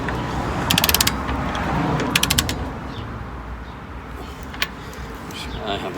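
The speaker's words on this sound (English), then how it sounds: "I have a torque wrench here." Torque wrench ratcheting while tow bar bolts are tightened on a BMW X3 F25 during a Westfalia tow bar install, two quick bursts of rapid clicks near the start over a steady background hum, then a single click later on.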